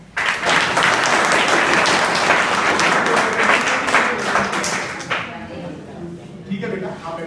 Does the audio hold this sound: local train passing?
no